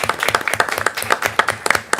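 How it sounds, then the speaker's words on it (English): Town council meeting audience giving a round of appreciative hand claps, a loose scatter of individual claps with distinct uneven peaks, fairly close and moderately loud, no talking. "give a hand clap of appreciation for all that you do for the community"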